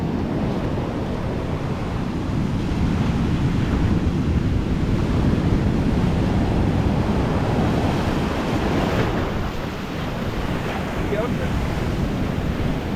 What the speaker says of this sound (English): The boys are down there fighting those waves